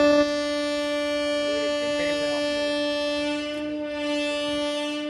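An Intercity Express train on the Madurai to Coimbatore line via Palani and Pollachi sounds a long, steady horn that holds for several seconds. The blast is loud and close, with faint rail and station noise beneath it.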